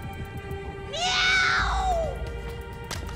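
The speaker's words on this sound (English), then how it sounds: "Did she just meow?" A character in the video game Cyberpunk 2077 gives a single drawn-out meow that rises and falls over about a second. It is heard clearly above a low background hum with no talk.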